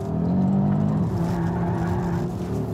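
An Audi RS 3 at full throttle on a race track, its engine roaring loud and close with a steady drone that shifts pitch about a second in, no voices.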